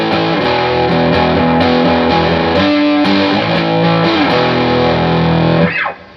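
Loud distorted electric guitar, a Gibson Les Paul, playing sustained chords and riffs with a thick tube-driven crunch, cutting off abruptly near the end.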